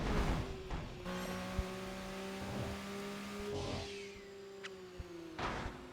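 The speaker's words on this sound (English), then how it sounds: "Bobbing and weaving between the traffic cars." A car weaves through traffic in a street racing video game, its engine droning steadily and revving with pitch shifts, passing other vehicles with whooshes and brief tire noise.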